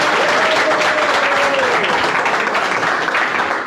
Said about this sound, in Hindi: भाई के लिए ताली बजा दो।